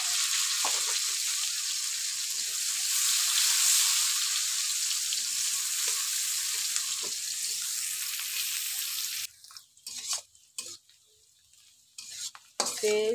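Bay leaves frying in hot oil in a pan while bitter gourd is cooked for a Bengali fish curry, a steady close sizzle for most of the span, then quieter with scattered stirring and utensil clinks.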